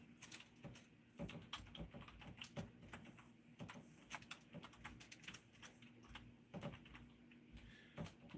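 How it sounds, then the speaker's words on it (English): Quiet, close typing on a computer keyboard during a live stream, irregular clusters of key clicks with brief pauses between bursts, no voices. "Can you tell what I'm typing just from the sound?"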